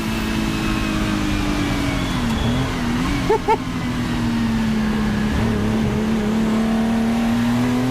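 Porsche 935K race car engine on a track, a steady droning exhaust tone held loud and close for several seconds with slight pitch dips, heard through a recording with a brief chirp in the middle.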